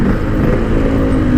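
Motorcycle with a stock black original exhaust, a steady loud low engine rumble held close up for a moment with no break.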